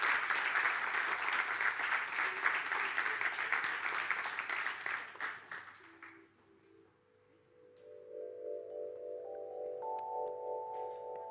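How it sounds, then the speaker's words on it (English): Audience applause at a school graduation ceremony, a loud sustained burst of clapping that fades out after several seconds, followed by a rising electronic tone. "Let's applaud everybody."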